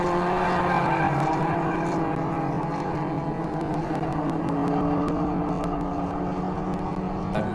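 Ford Laser and Mazda 1500cc race cars roar around the Katukurunda circuit, a dense, steady engine drone with layered revving from several cars running close together, loud and continuous throughout.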